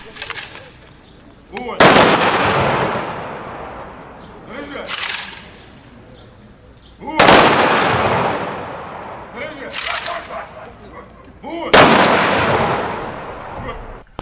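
Loud booming volleys of a celebratory fireworks salute at a town commemoration in Kalush, four sharp blasts each followed by long crackling, rumbling decay, with a voice briefly audible.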